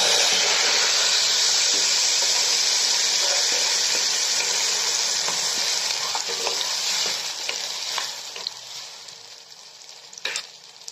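Ground tomato puree, made from five tomatoes, hits hot oil in a pan for an egg pepper gravy and sizzles loudly with a dense steady hiss. The sizzle fades over the last few seconds, with a few stirring clicks near the end.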